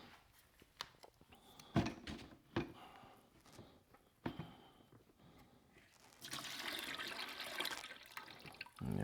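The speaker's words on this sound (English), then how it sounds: "I'm going to remove the hoses here, and I'm sure even though I've drained it, that more fluid is going to fall out" Fluid from the cooling hoses of a BMW S1000RR track motorcycle spilling into a bucket, faint irregular splashes and drips, then a steadier pouring trickle near the end, close and quiet.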